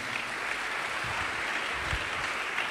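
A church congregation applauding during a French-language sermon, a steady dense patter of clapping filling the whole moment without talk over it.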